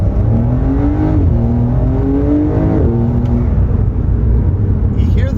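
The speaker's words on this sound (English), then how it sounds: "You hear the pop-off valve more in normal mode than you do in sport." Porsche 911 4S exhaust in normal mode, a steady engine drone with rising and falling pitch as the revs climb, plus a soft puff from the pop-off valve, loud and continuous throughout.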